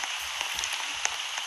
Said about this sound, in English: Well, it's raining, but I can't really do anything.